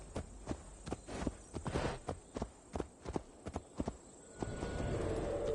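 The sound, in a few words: horse walking, hooves clip-clopping, from video game Assassin's Creed Valhalla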